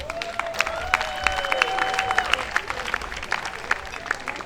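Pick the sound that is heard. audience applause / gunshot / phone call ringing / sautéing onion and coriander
audience applause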